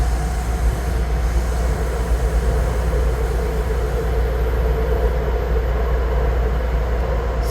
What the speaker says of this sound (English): So we've been on the train for about 10 minutes, maybe not even.